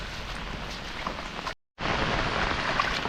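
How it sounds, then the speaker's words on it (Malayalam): Heavy rain pours steadily in a constant broadband wash over a riverside paddy field, briefly cutting out for a moment before resuming at the same dense level. "നല്ല മഴയാണ്"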